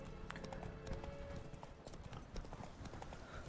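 The horse Roach gallops in The Witcher 3 with a fast, continuous rhythmic clip-clop of hooves, steady and fairly close, under faint game ambience.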